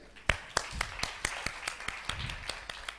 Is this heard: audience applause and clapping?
yes